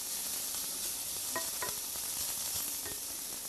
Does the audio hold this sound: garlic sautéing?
yes